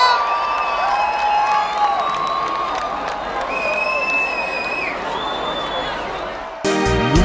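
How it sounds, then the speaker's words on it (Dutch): A crowd applauds and cheers loudly with scattered whoops and shouts, sustained throughout before cutting off abruptly at the end. "dit applaus is voor jullie"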